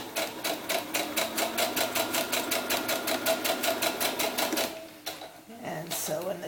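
A sewing machine stitches a channel across a doll's sunsuit in a fast, even run of needle clatter lasting several seconds, then stops, followed by a short burst of handling noise and a voice.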